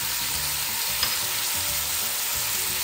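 Garlic cloves dropping into meat frying in a pan for carne en su jugo give a steady, close sizzle throughout, with no voices.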